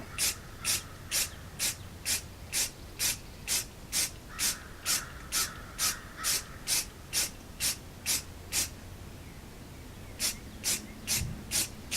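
Short rhythmic spray bursts, about twenty evenly spaced hisses from an aerosol can, as a Burris rifle scope is painted black, close and moderately loud, with a brief pause near the end and no talking.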